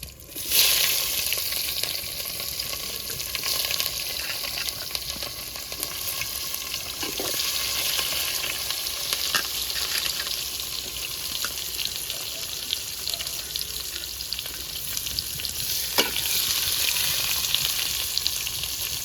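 Cumin seeds and chopped onion frying in hot oil for a Bengali mutton curry, a loud continuous sizzle and crackle close by with occasional sharper pops, no voices.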